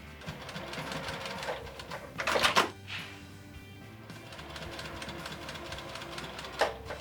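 Sewing machine stitching quilt pieces along a chalk line, a steady mechanical whirring throughout with a brief louder burst of running partway through and a softer tick near the end.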